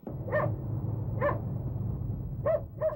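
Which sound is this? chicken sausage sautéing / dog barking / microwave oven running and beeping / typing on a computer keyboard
dog barking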